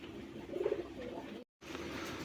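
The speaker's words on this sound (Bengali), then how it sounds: "বন্ধুরা এখানে আরেক জোড়া রাসগোল্লা কবুতর" A pair of rasgolla pigeons, one sitting on eggs, coo in a low rolling burst at a fancy pigeon seller's loft, then comes a brief dropout and steady ambient hiss.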